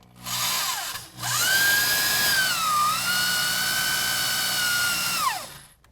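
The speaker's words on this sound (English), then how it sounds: "we're going to drill a 5/8 hole into our plastic kick-out." A power drill cuts a 5/8-inch hole into a plastic kick-out on a 2014 Ford F250 truck bed, a loud whining motor that revs up, dips briefly, then holds steady before winding down.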